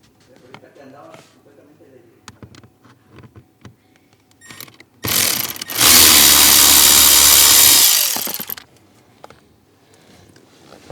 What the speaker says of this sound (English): let's go on and start taking out that bolt